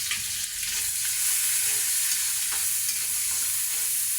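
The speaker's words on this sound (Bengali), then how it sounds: "তো এটা এখন আমি ভেজে নেবো তেলে" Garlic, onion and dried chillies fry in hot oil, a loud, dense, continuous sizzle with faint stirring scrapes, close up and with no voices.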